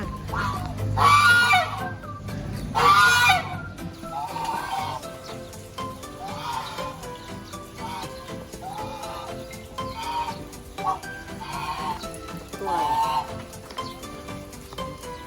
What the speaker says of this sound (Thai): ห่านปะห่านห่านห่านใช่ไหม